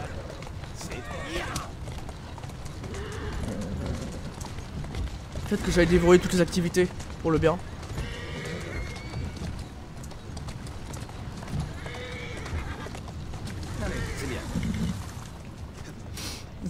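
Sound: horse hooves clip-clopping in the video game Assassin's Creed Syndicate

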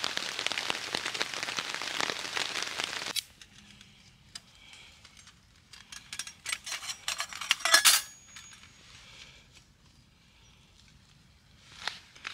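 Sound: rain falling

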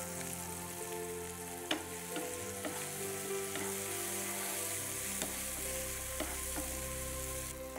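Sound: sautéing slit green chili in a pan

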